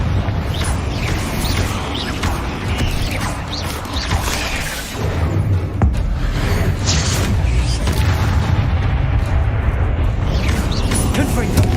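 Confringo blasting spells explode in quick succession inside a tomb in Hogwarts Legacy, loud booming crashes and whooshes over a dense rumbling bed of combat sound, with a voice calling out between blasts.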